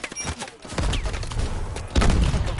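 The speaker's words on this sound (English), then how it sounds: "I have no idea who's shooting me right now" Gunfire in the Call of Duty: Advanced Warfare campaign, with a couple of heavy bursts of shots among battlefield clatter and noise, up close and fairly loud.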